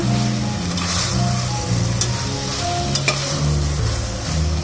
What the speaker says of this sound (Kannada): ಇದು 1-2 ನಿಮಿಷ ಹೀಗೆ ಫ್ರೈ ಮಾಡಬೇಕು. ಇದು ಮಸಾಲೆ ಎಲ್ಲ ಚೆನ್ನಾಗಿ ಮಶ್ರೂಮ್ಗೆ ಹಿಡ್ಕೊಳ್ಬೇಕು.